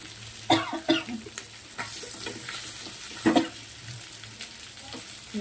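Katla fish pieces frying on a flat tava, with a steady soft sizzle broken by several sharp scraping and stirring clatters from a spatula, heard close up with no talking.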